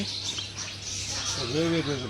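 Brief chirping of sparrows over a constant outdoor background hum in the Konkan, with a short burst of voice toward the end.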